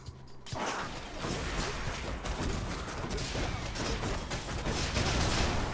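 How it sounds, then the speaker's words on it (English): A burst of explosion and combat effects in the roguelike video game Hades, with dense crashing and whooshing impacts sustained loudly for several seconds and no voice over it. "Nice little explosion."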